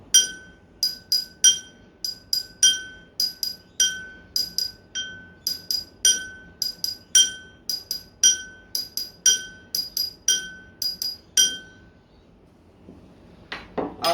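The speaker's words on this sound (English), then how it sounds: "I'm going to have just tapping on the glass, making a pattern out of that." Glass is tapped in a rhythmic pattern, giving a long series of bright, ringing clinks with clustered beats and short gaps, crisp and close with no talking.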